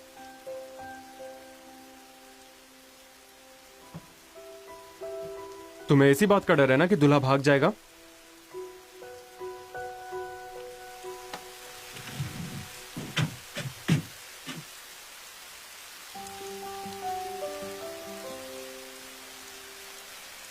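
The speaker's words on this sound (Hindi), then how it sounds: "बारिश क्यों होने लगी?" Rain falls on a Joseon-era wedding day as a soft, steady hiss beneath dubbed dialogue and swelling music, the patter growing more noticeable in the latter half.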